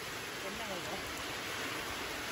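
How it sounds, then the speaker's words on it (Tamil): Heavy rain pours steadily outdoors during village cooking of prawn curry, a dense, continuous hiss filling the scene at low-to-moderate level with no distinct voices. "அடாது மழை பெய்தாலும் எங்கள் சமையலை நாங்கள் விடுவதா இல்லை."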